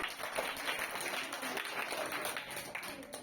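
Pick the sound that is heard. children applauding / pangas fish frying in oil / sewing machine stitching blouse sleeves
children applauding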